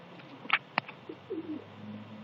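Old racing pigeon hens coo softly inside their loft, a few low throaty calls and brief wing or perch noises, faint against a quiet room.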